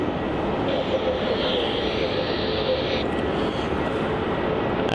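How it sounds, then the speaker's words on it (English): A jet airliner roaring on takeoff from runway 34 at Melbourne Airport, Australia, a steady broad engine rumble heard from a distance with a faint radio-style voice underneath. "runway 34, let's take off"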